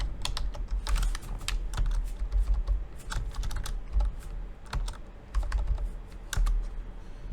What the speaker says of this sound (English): So let's say under description we type EICAR string